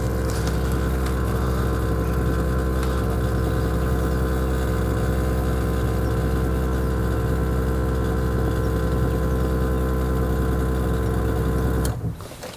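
A compressor pumps air into the air suspension of a 2021 Pössl Roadcruiser XL motorhome, running as a loud, steady, close mechanical drone that cuts off near the end.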